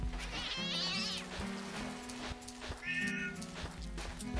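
A cat yowls and squalls in a video game, drawn-out wavering meows and caterwauls rising and falling over a looping game soundtrack.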